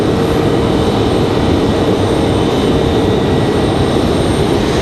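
An American Airlines Airbus A319 or A321 jet departs RDU Raleigh-Durham International Airport, a loud, continuous broadband engine roar that holds steady throughout.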